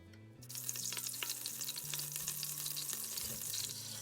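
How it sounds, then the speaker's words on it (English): Vegan butter melts and sizzles in a large saucepan for corn chowder, a steady close crackling fry that runs without pause under a faint low hum, with no talking. "in a large saucepan, you have to melt 2 tablespoons of vegan butter"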